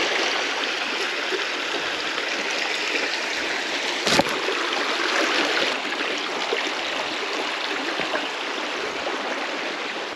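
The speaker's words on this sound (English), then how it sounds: "Get across the stream now." A bush stream on a walking track flows with a steady, full rush of water over rocks, continuous and fairly close, with one sharp knock partway through and no talking.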